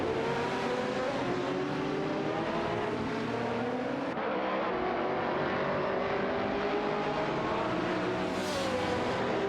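Lamborghini Gallardo GT3 race cars battle wheel to wheel in a racing video game, engines droning and rising in pitch through gear changes, one car sweeping past near the end, loud and continuous with no voices.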